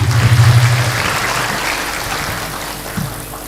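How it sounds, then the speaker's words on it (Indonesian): An audience at a talk by Rocky Gerung breaks into applause, a dense hissing wash of clapping that fades gradually, with a low hum underneath. "Oke, tepuk tangan yang meriah."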